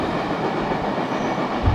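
A CSX freight train rolls past on the rails as part of a two-train meet, a steady close rumble of wagons with low wheel noise and no break in the sound.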